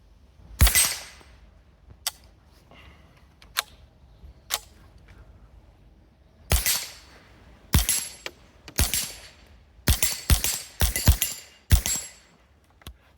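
Semi-automatic SK rifle fired at 8-inch targets 30 yards away outdoors, a sharp loud shot early, then a pause and a rapid irregular string of cracks toward the end, with fainter distant reports between.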